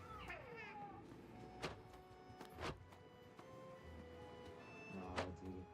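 A cartoonish cat king in the video game Split Fiction lets out several meows and short mewing cries, faint and spaced out over quiet game background sounds with a few sharp clicks.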